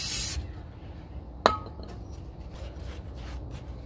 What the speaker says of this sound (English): A little brake clean.